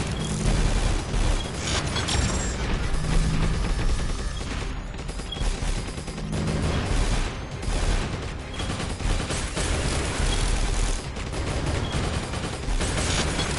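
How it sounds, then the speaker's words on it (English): Explosions from bouncy bombs in the PSVR shoot-em-up Drone Striker, a dense, continuous barrage of booming blasts and rapid gunfire layered over game music, loud and steady throughout. "They got the bouncy bombs."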